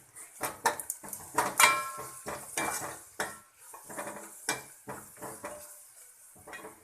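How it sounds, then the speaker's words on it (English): Asafoetida goes into hot oil in a pan while cooking dal. Close, uneven clinks and scrapes of a spoon against the pan come over a light sizzle, with no talking. "Now I am adding hing."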